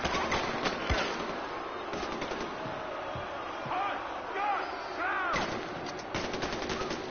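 Gunfire in the video game Far Cry 4, repeated sharp shots in bursts and single cracks over several seconds, with a voice talking underneath.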